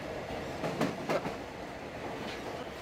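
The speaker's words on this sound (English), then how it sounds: "the clickety-clack of the railway tracks" A coal-fired steam train rolling out of Vicksburg in the early morning makes a faint, distant clickety-clack of wheels on rail joints, a few soft rhythmic knocks over a low steady rumble, with no voices.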